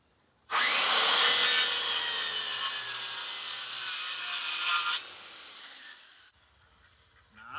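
A hand saw cuts through wood for smokehouse framing, a steady, loud rasping of continuous strokes for about four and a half seconds before tapering off, followed by quiet.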